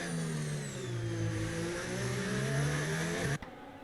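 Racing car engine revving hard around the Monaco circuit in a racing video game, a loud, steady high-pitched drone with rising and falling pitch, several cars close together, cutting off abruptly near the end.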